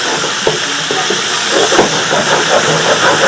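Chicken with ginger-garlic paste fries loudly in a pan, a dense steady hiss with bursts of spattering and a few utensil knocks, no talk.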